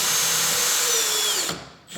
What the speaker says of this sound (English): These are self-tapping screws, which I'm actually gonna screw in through the lip into the front bumper on either side